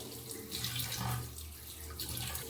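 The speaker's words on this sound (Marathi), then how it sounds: "स्वच्छ धुवून घेऊया आपण चिकन थोडं पीस वगैरे" Steady splashing of running tap water over raw chicken pieces being washed for a dum biryani, a continuous close-up gush with no voices.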